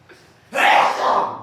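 A single loud, close sneeze bursts out after a brief quiet moment, sharp onset trailing into a breathy release.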